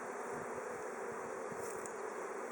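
Honeybee swarm around a hive, a dense continuous buzzing hum from many bees, steady and fairly close with no gaps and no talking.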